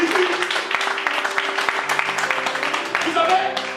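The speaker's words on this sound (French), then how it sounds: "Acclamons très très fort notre Seigneur." A church congregation applauding during a service, with a loud stretch of clapping running under a voice that is speaking or singing.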